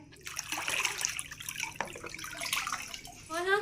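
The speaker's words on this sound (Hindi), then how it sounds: "अभी पानी भरत हूँ" Tap water runs into a tub at midday in a home, a steady splashing and trickling that fills the clip, with rising gurgles near the end as the level climbs.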